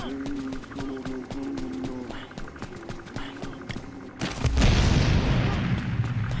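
A bomb goes off in a video game with a sudden loud boom after several seconds of clicking, tapping game sounds, followed by a long rumbling roar that carries through to the end.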